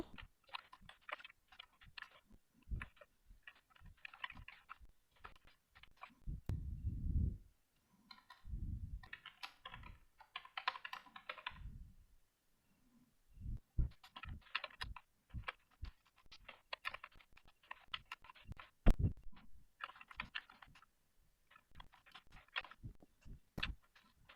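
Computer keyboard keys clack in quick irregular bursts, close and crisp, with short pauses between runs of typing and a few louder single taps.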